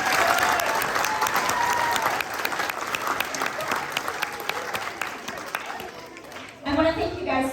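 A large concert crowd applauds dancers with loud, dense clapping that slowly tapers off, then a voice begins speaking over the fading noise near the end.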